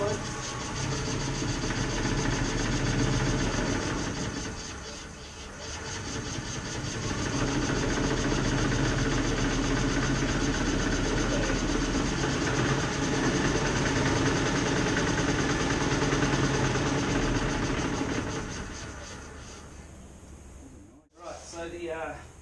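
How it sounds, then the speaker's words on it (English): Steady rocking, whirring drone from the spinning differential of a Fiat 850 electric conversion, continuous and moderately close, easing off near the end with a brief knock. "that kind of rocking noise is actually the differential spinning"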